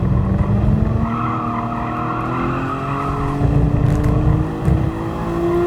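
Tires squeal and skid as a race car in Gran Turismo Sport brakes too late, a long continuous screech rising over the steady engine drone, loud and close.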